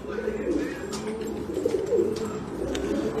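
King pigeons coo softly in low, repeated throaty murmurs against a faint background hiss, with a few faint chirps above.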